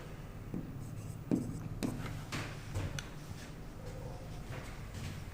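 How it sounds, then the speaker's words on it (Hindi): Pen strokes scratch across paper as someone writes by hand, irregular scribbles and taps close up over a faint background hum, with no voices. "चलो इंग्लिश में लिख देता हूं"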